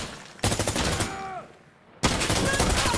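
Video game gunfire in Insurgency Sandstorm cracks out in two dense automatic bursts, separated by a short lull carrying a faint whistling tone, loud and close.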